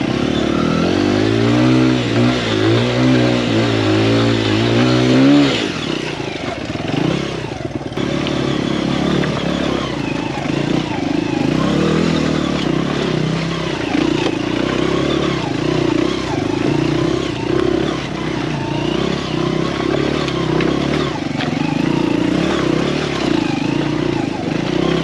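A Honda XR100 enduro motorcycle labors up a slippery hill over slick logs, its small engine revving hard and continuously up close, with clattering and scraping from the bike and a rider talking over it.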